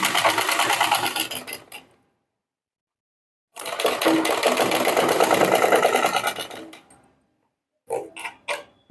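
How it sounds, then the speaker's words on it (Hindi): Sewing machine stitching over the piping on a blouse back neck, running in two long bursts of close, steady whirring with a pause between them and a few short stitch bursts at the end. "और पाइपिंग के ऊपर सिलाई लगाएंगे।"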